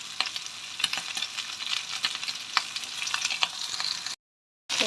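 A spoon works through mung beans in a cooking pot for monggo soup, making repeated scraping stir strokes over a soft, close sizzle before a short dropout and a brief return.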